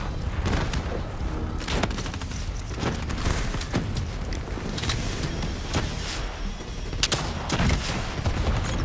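Gunfire in the video game Call of Duty Black Ops 3: a dense, continuous fusillade of rapid shots and booms, loud and layered, with no speech.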